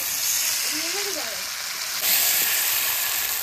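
Chicken sautéed in a pan for a lemon chicken kosha, a loud continuous sizzling hiss with a brief murmur of voices in the background.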